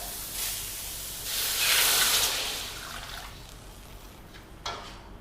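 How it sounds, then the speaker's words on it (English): Stock poured into a hot wok of softened tomato and onion for drumstick soup, a watery hiss that swells around the middle and then trails off, with a brief splash near the end and no talking. "Let's add the stock now so that the tomato cooks faster."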